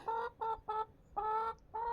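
Chickens being brought in for the evening give a series of five close, loud clucks in an uneven rhythm, each a short harmonic call with brief gaps between.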